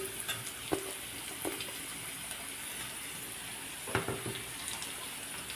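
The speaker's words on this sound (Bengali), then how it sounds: "গাজর আর বিনস সিদ্ধ হয়ে গেছে এর মধ্যে দিয়ে দেব কেটে রাখা ক্যাপসিকাম" Capsicum stir-fried with boiled carrots and beans for mixed fried rice, giving a soft, steady sizzle punctuated by a few sharp clinks and scrapes of stirring.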